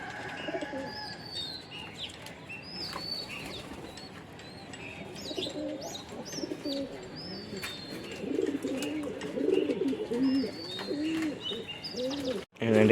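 Newly bought pigeons coo repeatedly in soft, rolling, throaty calls close by, with scattered chirps, a few faint wing flutters and a brief knock near the end.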